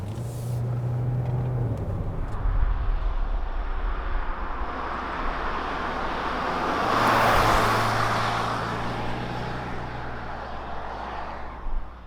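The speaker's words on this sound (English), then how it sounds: "Right now we're driving on the highway, and this Optima Hybrid feels very stable and also pretty quiet" Inside a 2021 Kia Optima Hybrid on the highway, a steady low road and tire hum with faint wind rush fills the cabin, swelling briefly midway, with no talking.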